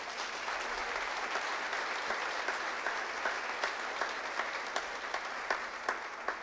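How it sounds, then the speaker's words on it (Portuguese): A church congregation at a family worship service claps together, a steady fairly loud patter of many hands with a faint rhythmic beat running through it, no talking. "Aplauda o Senhor Jesus."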